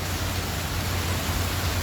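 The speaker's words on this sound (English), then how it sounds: "Didn't anticipate the rain" A rain storm pours down steady and dense during an outdoor bike ride, a loud continuous hiss of falling water with a low rumble underneath and no voices.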